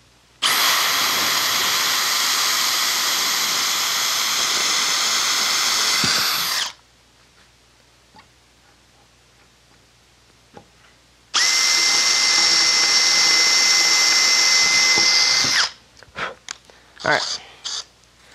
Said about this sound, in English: Make sure we're not going to drill into our bottom board